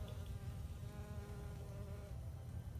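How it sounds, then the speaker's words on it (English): Continuous droning buzz of a bee hovering close by in a summer backyard vegetable garden in Oklahoma, steady and fairly faint, with no talking. "There's a bee."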